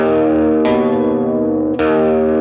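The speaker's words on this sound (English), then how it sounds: "He also does a little quarter bend on that minor sixth interval, just to give it a little more personality." An electric guitar with distortion plays notes with a slight quarter bend on a minor sixth interval, two sustained ringing chords struck about a second apart, loud and close.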